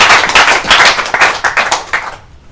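A crowd applauds at a World Blood Donor Day ceremony in Goma, North Kivu, a steady burst of loud, dense clapping that swells in waves before trailing off at the end.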